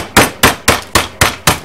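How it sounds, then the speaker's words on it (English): Hammer repeatedly smashing crackers inside their package during meatloaf preparation: six sharp, loud blows at an even, quick rhythm, with no talking. "I didn't think a hammer was part of your cooking utensils."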